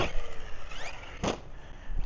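Team Corally Shiroi RC short course truck racing across dirt, a near, rising motor whine with a brief swelling burst midway, then settling into a steady electric hum.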